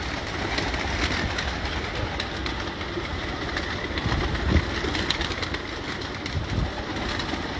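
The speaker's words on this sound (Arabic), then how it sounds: "حمام ابراج استاذ سخي" Pigeons in a loft coo softly and continuously against a steady, low background rumble, with occasional flutters and taps rising briefly above the murmur and no voices.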